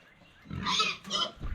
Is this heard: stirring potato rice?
no